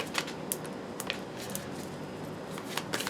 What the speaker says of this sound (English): We'll do a few more shuffles